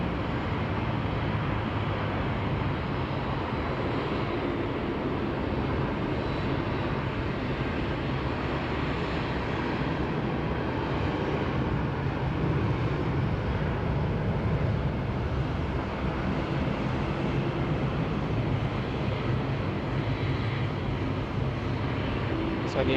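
Steady broadband roar of jet aircraft at Sydney Airport, sustained and fairly distant, with no clear peaks, like departures heard from the control tower area.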